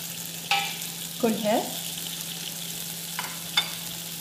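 Chicken cooking with spices in a pan while being stirred, a faint steady sizzle with a few scraping stirs and a brief spoken word, close and fairly quiet.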